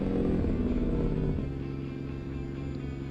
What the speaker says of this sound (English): God, that motor sounds so freaking dirty.